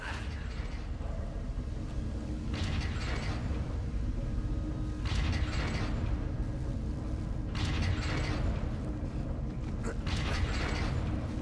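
Grinding machinery in the video game Castlevania: Lords of Shadow creaks and clanks in loud periodic bursts, a few seconds apart, over a constant low mechanical rumble.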